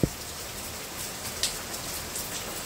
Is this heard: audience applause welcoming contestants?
no